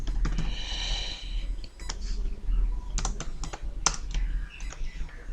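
Code being typed on a computer keyboard during a system programming assignment, with quick irregular bursts of close clicking keystrokes and brief pauses, with no talking.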